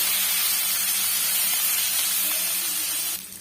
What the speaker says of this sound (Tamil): நம்ம சேர்த்துருக்கிற கருவேப்பிலை ஓரளவுக்கு நல்லாவே வதங்கி வந்துருச்சு